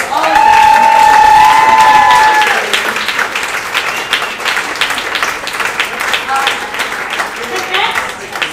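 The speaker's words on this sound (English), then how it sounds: "Round of applause for all of them." A small audience at a comedy and reading show applauds the readers with loud, sustained clapping and some cheering, opening with a held whistle-like tone, then settling into a thinner, uneven patter as the applause fades.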